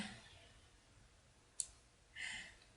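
A computer mouse clicks while a Flash CS6 drawing tool is used: one sharp, brief click, then a slightly longer clicky burst a moment later, both close and crisp in an otherwise quiet room.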